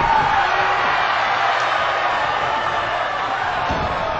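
A wrestling crowd roars with loud, sustained cheering that fills the arena evenly, with no breaks or swells.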